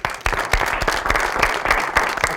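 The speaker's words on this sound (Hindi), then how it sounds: "बहुत सारी तालियों में वेलकम कीजिएगा शिरोर साहब जी" Loud studio audience applause fills the room, a dense steady burst of many hands clapping for a guest arriving on a Pakistani talk show set.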